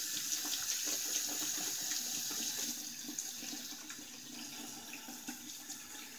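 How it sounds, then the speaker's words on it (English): A shaving brush is rinsed under a running bathroom tap, a steady close stream of water splashing into the sink, fairly loud and unbroken, with no talking. "Let's clean the brush here."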